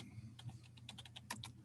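A computer keyboard typed on in a quick, uneven run of light clicking keystrokes, close and fairly soft over a steady low hum.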